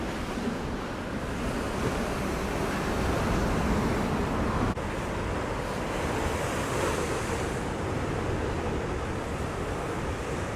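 Sea waves surge and wash onto the shore at Scarborough in a loud, continuous roar, with wind buffeting the microphone throughout.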